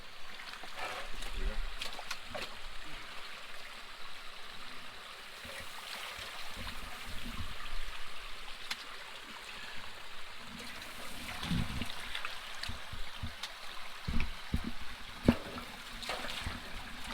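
A stream flows and trickles nearby during gold panning, with intermittent splashes and sloshing of water in the pan, and a few louder knocks toward the end.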